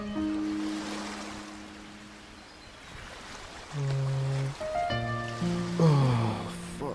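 Soft rushing water blends into a played relaxing music track with flute and piano tones, a steady wash of flowing water under sustained melodic notes at moderate loudness, no talking.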